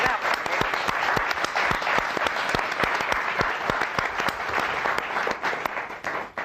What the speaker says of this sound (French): Madame de Funès, on vous applaudit.